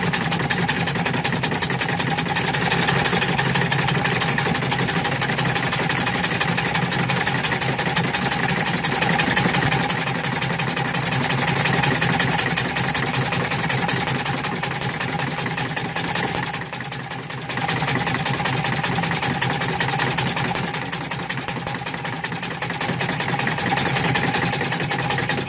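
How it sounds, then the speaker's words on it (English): A homemade compressed-air engine runs steadily and loudly throughout, a fast even mechanical clatter like a sewing machine at idle, with a brief dip in level partway through and no talking. "Okay, here's a clip of the engine running."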